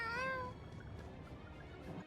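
Cat meowing in the video game Tales of Xillia 2: one clear, rising and falling meow at the start, followed by a faint, steady game background.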